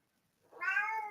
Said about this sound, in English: She's meowing over here.